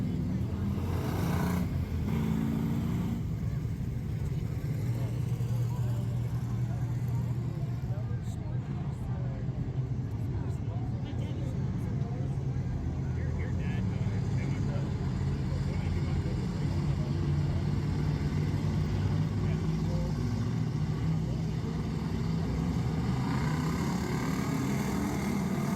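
Pure stock race cars at Accord Speedway accelerate together on a green-flag restart, a dense, steady engine roar holding throughout while a commentator talks over it.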